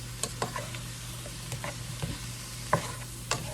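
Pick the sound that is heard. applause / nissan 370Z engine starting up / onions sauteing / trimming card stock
onions sauteing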